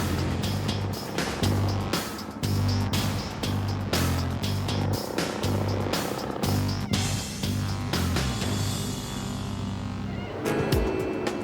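A livestock road train truck driving at 100 km/h on an outback road, a loud steady engine drone and rumble with repeated rattling bursts throughout.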